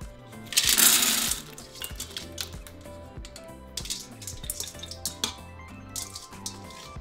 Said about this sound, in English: now we're ready to throw them in our Instant Pot